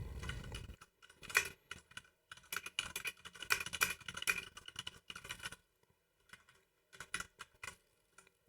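Computer keyboard typing in bursts of quick key clicks with short pauses between, close and moderately loud, while a commit message is written for a local Git repository.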